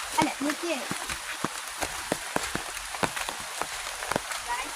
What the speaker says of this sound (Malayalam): മഴ ശക്തമാവുകയാണ്